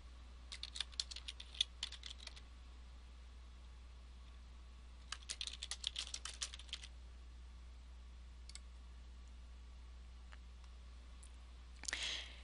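A computer keyboard used to type a file name, with quick bursts of light key clicks split by pauses and a faint steady hum underneath.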